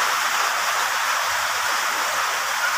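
Heavy typhoon rain pours steadily as a dense, unbroken hiss that stays loud and even throughout, with no voices over it.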